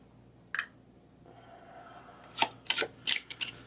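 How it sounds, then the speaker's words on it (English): Board game cards being shuffled for Arkham Horror third edition, a short sharp riffle followed after a pause by several quick, crisp bursts of card flicking, close and fairly quiet. "Shuffle them up, shuffle them up, shuffle them up."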